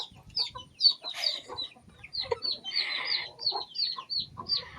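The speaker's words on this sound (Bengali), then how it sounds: "মুরগিরা দেখেছো সব সিঁড়ি থেকে লাফ দেয়।" Several chickens cluck and squawk nearby, their calls overlapping in short bursts around steps on a rainy day.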